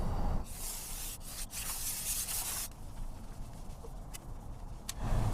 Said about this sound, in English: I'm going to have to do it the old-fashioned way, just scrape it as best I can